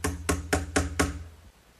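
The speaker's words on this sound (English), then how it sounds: "the shelf in place by toenailing some 4-penny finish nails in from the bottom" Hammer blows toenail 4-penny finish nails up through the bottom to fix a 3/4 inch plywood shelf in a hutch: five sharp, evenly spaced strikes in a steady rhythm, close and loud, with a quieter tail as the blows stop.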